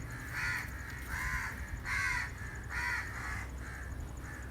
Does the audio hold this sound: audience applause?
no